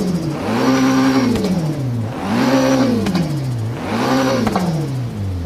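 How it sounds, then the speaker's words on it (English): A car engine in Forza Horizon 3 is revved three times in a row, each rev climbing then falling in a smooth mechanical whine, loud and close, alone without talk. "It's like rev it and see what RPM it actually backfires"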